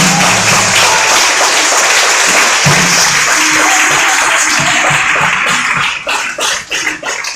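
A church congregation applauding loudly and continuously at a worship service, dense clapping that thins toward the end into a few scattered claps.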